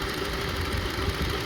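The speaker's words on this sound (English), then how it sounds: "See? Three cylinders only working. Start shaking." A Honda CR-V engine idles roughly on only three cylinders, heard up close as a steady low rumble with an uneven, shaking pulse.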